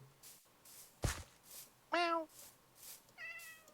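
Minecraft cats meow twice in game audio, one fuller call and a shorter one later, with a sharp thud and soft footsteps between them and faint background noise.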